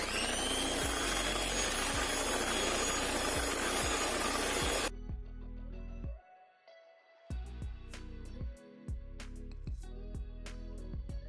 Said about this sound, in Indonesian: Kocok dengan speed tinggi sampai adonan mengembang dan kental berjejak.